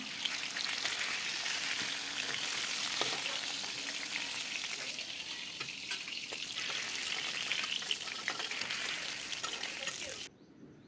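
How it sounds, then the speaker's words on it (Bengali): Pieces of catla fish fry in hot oil in a kadai, giving a loud, steady, close sizzle with dense crackling that runs almost unbroken before cutting off abruptly near the end. "ভেজে নেব দেখুন আমার মাছগুলো এরমভাবে ভাজা হবে"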